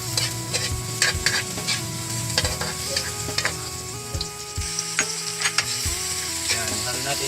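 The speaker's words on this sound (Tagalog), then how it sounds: "Yan, haluin natin yung ating pritong galunggong." Fried galunggong fish being stirred with onion and tomato in a pan, with steady sizzling under repeated scraping and clacking of the spatula against the pan, close and continuous.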